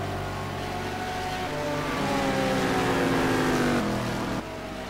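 Race cars in a simGT sim-racing game around East London, engines droning loudly and rising in pitch together as they accelerate, then dropping sharply near the end.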